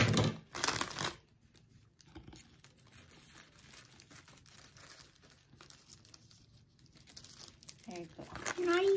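Plastic packaging being cut with scissors and crinkled by hand, loud crackling bursts near the start and end with quieter rustling and snips between, close by, and a voice briefly at the end.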